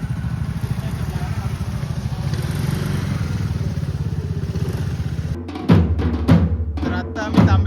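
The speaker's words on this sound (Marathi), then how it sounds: "आम्ही सगळे बाईक घेऊन चाललो." A group of motorbikes ridden together toward a village temple in Asgani gives a steady low engine drone, close and continuous, then breaks into bumpy thuds and clattering revs over the last couple of seconds.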